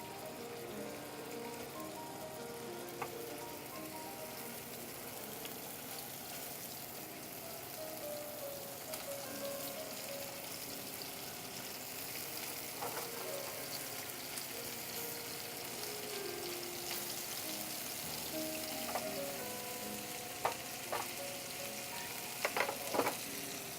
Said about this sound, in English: So we're going to let them sear for about 3 minutes, make the ham nice and crispy on the outside.